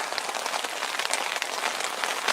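Steady rain falls at a UK sea fishing spot, a dense continuous hiss of drops pattering on surfaces, close and fairly loud with no pauses.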